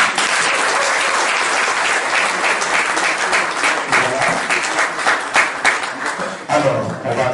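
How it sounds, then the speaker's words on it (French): Sustained audience applause fills a conference hall at an APARECO event on the DR Congo, held at IUT Bobigny. The clapping stays dense and steady throughout, with some voices mixed in. "Et je pense qu'on peut les applaudir."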